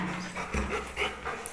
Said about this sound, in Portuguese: eu vou sair com esses cachorros que eles estão reclamando aqui